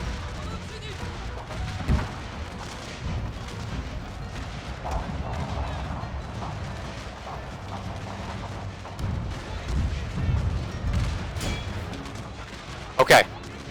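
Artillery gun line firing during a Civil War video game battle at First Manassas, with distant booms and scattered gunfire rolling over a steady battlefield din and a sharper report near the end.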